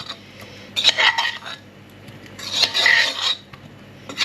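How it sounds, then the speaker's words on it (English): Roast potatoes scrape in a pan coated with melted beef fat, two harsh metallic rasping bursts close to the microphone, separated by a quieter sizzling pause. "Sorry about the scraping noise"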